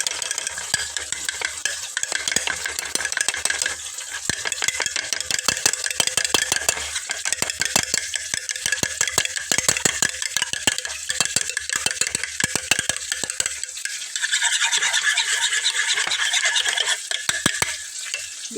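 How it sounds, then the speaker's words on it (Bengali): An egg whisked briskly in a bowl, a fast steady stream of close rattling clicks and scrapes that keeps going with no speech, tapering toward the end. "ডিমটাকে আমি ফেটিয়ে নিচ্ছি।"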